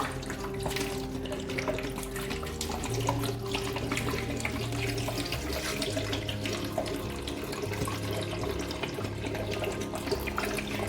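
Water pours steadily into a cooking pot holding pumpkin pieces, a continuous close splashing flow with faint clinks, no one speaking.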